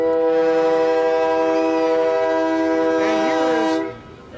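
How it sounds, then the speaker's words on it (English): A loud, sustained air horn blast rings out steadily at an outdoor Christmas parade in Olivehurst, then cuts off abruptly, leaving quieter background sound. "You'd think somebody likes air horns or something."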